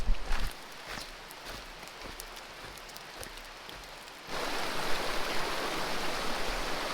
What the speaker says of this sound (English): Looks like I have to cross the river over here.